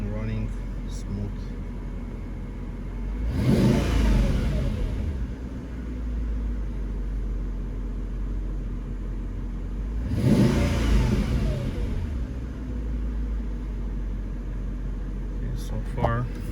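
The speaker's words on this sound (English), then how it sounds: "So I can tell you the engine running smooth." A Mercedes CLS 55 AMG engine idles steadily in a low rumble, swelling twice into longer revs before settling back, close and fairly loud, with a little talk over it.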